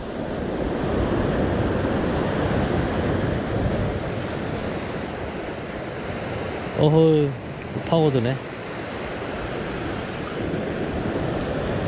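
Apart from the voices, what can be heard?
ocean waves breaking on shore while fishing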